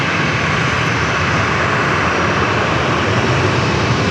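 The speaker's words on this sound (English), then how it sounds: "A330 departures." Loud, steady roar of an Airbus A330 jet taking off at LAX, a dense continuous engine rumble holding strong throughout with no talk.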